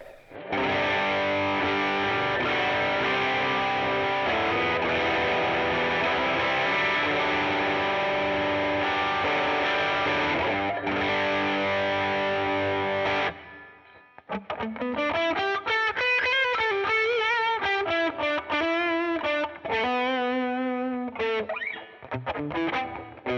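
Electric guitar through a 1981 Inventions DRV distortion pedal on the bridge pickup plays loud, heavily distorted sustained chords, then shifts to a run of distorted single-note lead lines, with no talking.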